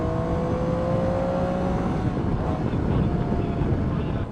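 A Triumph Tiger 800 XCx adventure motorcycle engine drones steadily at speed with heavy wind rush, loud and continuous throughout.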